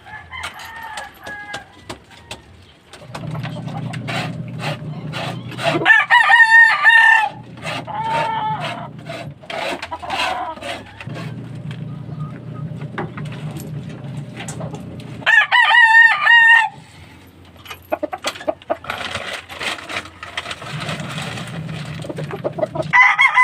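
Chickens cluck steadily over a busy farmyard background, with a rooster crowing loudly twice, close by.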